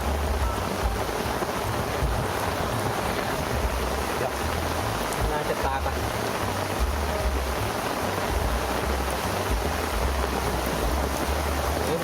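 Steady heavy rain and a low, rumbling thunderstorm surround a fishing boat at sea, a constant dense wash of noise throughout, with a brief voice speaking under it.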